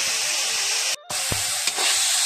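An onion mixture fries in a pan with a loud, steady sizzle and hiss. It breaks off briefly once, then continues with a few soft stirring knocks.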